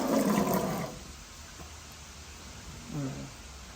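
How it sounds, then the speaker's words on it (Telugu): Water drains off boiled chickpeas in a home kitchen: a short, close gush of pouring liquid under a second, then a quiet hiss, with a faint voice briefly near the end. "శనగల్లో వాటర్ అంతా తీసేస్తున్నాం"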